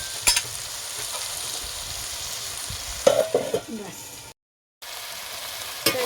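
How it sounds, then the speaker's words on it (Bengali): Poultry meat being stirred with spices in a frying pan, a steady sizzle broken by scraping strokes around the middle, a short silent gap, then the sizzle resumes with one more knock. "নাড়াচাড়া করে নেব।"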